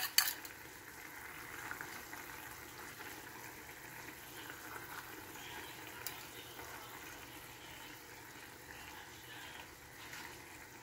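Egg frying in a pan with a steady, soft sizzle and faint bubbling crackle, constant and fairly quiet after a small initial clatter.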